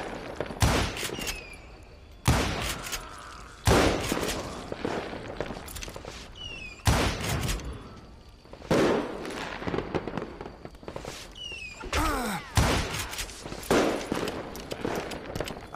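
Rifle shots ring out in the Western shooter Call of Juarez: Gunslinger, loud sharp cracks repeated at irregular intervals, some in quick pairs, each with a short ringing tail over faint background ambience.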